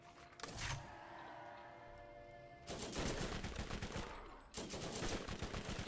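Turret gunfire in the Borderlands video game comes as sustained bursts of rapid automatic fire, with one long stretch at the start and two more near the end, separated by a quieter gap.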